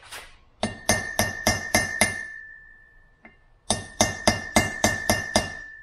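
Light metallic taps while installing valve seals on a Subaru Impreza 2.5L cylinder head, two bursts of about six quick evenly spaced clinks each, separated by a short pause with one faint tap, close and crisp.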